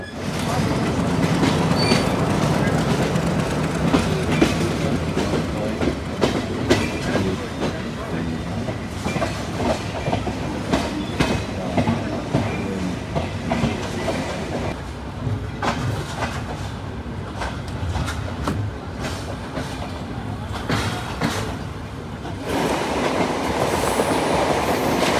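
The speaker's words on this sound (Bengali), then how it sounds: "ধূমকেতু এক্সপ্রেস ট্রেন" The Dhumketu Express runs on rails from Dhaka to Rajshahi, with a loud continuous rumble, rhythmic clickety-clack of wheels and occasional squeals. Faint voices may be heard under the noise.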